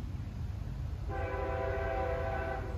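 A freight train's horn in New Jersey sounds after about a second of quiet background and holds as one steady, moderately distant chord until the end.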